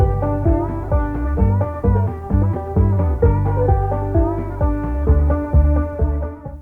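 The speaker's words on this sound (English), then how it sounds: "we wanted to add some music coming from the truck stereo" Diegetic film music playing from a truck stereo: a muffled, bass-heavy song with a steady beat and dull, boxy tone, continuous and fairly loud with no voices.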